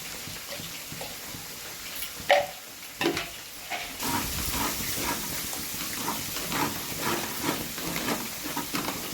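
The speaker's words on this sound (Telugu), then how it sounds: "ఈ అల్లం మంచి గోలాలి, ఫ్రై కావాలి మంచిగా. అల్లం పచ్చి వాసన రాకుండా గోలాలి." Ginger frying in oil in a pan for a village-style fish curry, a close sizzle with scattered stirring knocks that grows busier and louder in the second half.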